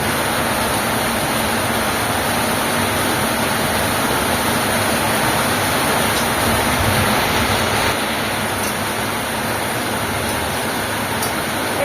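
Soybean chunks frying in a mustard masala, a steady broadband sizzle that holds loud and even from start to finish, with no talk over it.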